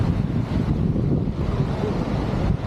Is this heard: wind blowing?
yes